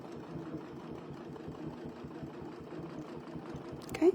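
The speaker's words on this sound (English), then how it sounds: "we'll just put one more line of stitching in there because we can." A sewing machine stitches a line across a quilt, its needle running in a steady, even rhythm at moderate volume, with a brief louder clunk right at the end.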